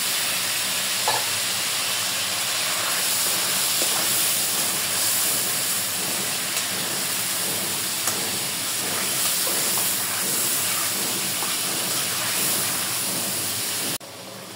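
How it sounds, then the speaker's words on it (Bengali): Steady, loud sizzle of hilsa fish frying in a spice paste with salt, a continuous hissing wash that carries on unbroken for the full length, no voices. "মাছটা একটু কষায় নেব"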